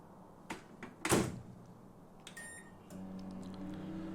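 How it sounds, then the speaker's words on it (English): A microwave door in a Tower! Simulator 3 room sounds with a couple of knocks and a sharp clunk, then a short beep and the oven's steady hum starting up, moderately close. "but the sounds in the background, that's a microwave"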